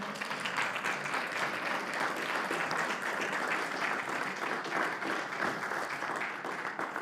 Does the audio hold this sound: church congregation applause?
yes